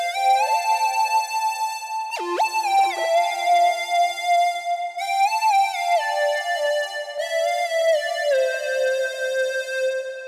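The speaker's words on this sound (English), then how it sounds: "I haven't really found a triangle wave that does that shark fin kind of sound" Bright synth lead from a triangle 'shark fin' wavetable patch in Arturia Pigments 4, playing a melodic line with gliding pitch bends and vibrato, clear and sustained with rich overtones, heard alone without speech.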